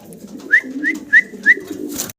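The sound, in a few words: pigeons cooing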